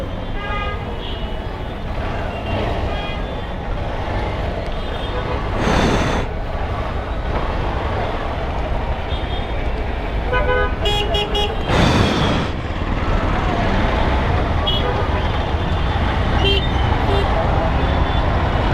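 Dense traffic jam at Madhubag, heard from a motorbike: a constant roar of engines and road noise, with several car horns honking and tooting on and off, loudest around the middle.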